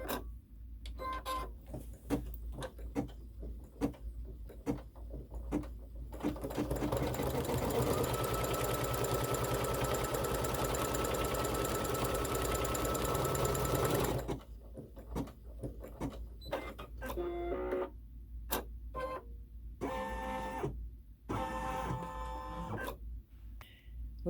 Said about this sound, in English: Now it's going to sew the seam line.